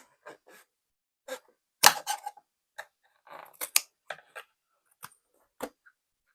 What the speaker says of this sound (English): I'm just going to take the scissors in as close as I can